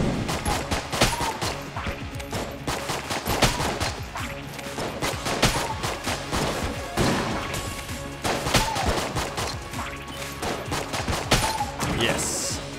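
Enemy gunfire in Enter the Gungeon, a dense, continuous stream of rapid shots and impacts layered over game music, with fairly steady loudness.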